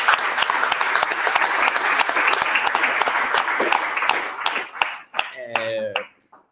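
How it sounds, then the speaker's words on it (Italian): An audience applauds at a literary event on mental health, dense sustained clapping that carries steadily for several seconds before thinning out, with a voice briefly emerging as it fades. "Io farei un applauso a Francesco Manunza."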